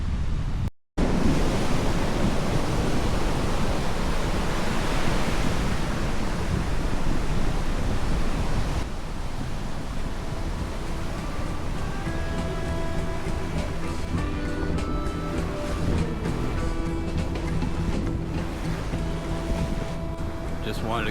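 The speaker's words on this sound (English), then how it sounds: "Nice day. Choppy on the Caribbean. Still pretty breezy." Choppy Caribbean sea waves and steady breezy wind at a beach, a loud continuous rushing wash with heavy wind buffeting on the microphone, briefly cutting out near the start.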